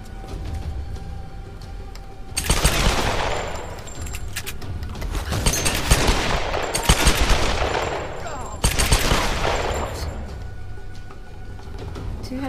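Gunshots in the video game Tomb Raider sound as several heavy, booming blasts, each trailing into a long echoing decay, spaced a couple of seconds apart and loud against a steady game backdrop.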